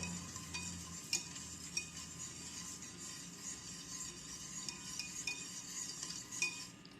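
Sugar being stirred into two cups of water in a cup for sugar syrup, with a steady, quiet scraping swirl and a few faint clinks of the spoon against the cup, no talking.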